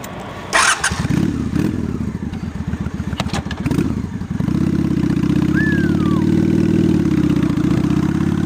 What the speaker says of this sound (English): Better turn the bike on.